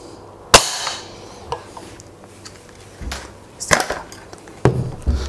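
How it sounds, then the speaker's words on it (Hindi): A Mod 65 air rifle fires pellets in a short test series: several sharp, isolated cracks spaced a second or more apart, each a brief dry snap over quiet outdoor background. "एक दो और फायर कर लेते हैं।"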